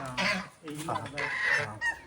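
Loud honking calls from ducks, several harsh quacks in quick succession close by.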